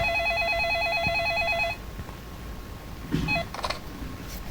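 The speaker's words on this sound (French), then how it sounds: "Oh, oh non, pas le téléphone. Quelqu'un appelle?" Telephone ringing in the Roblox video game, a loud electronic warbling ring lasting nearly two seconds, followed by quieter room sounds and a couple of brief fainter beeps.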